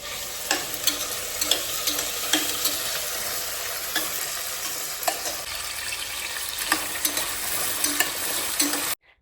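Veg chopsy fries in a pan with a loud, steady sizzle, broken by regular scraping strokes of a spatula stirring it, close up, until the sound cuts off abruptly at the end.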